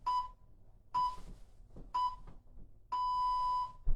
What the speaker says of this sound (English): You'll listen out for those 3 beeps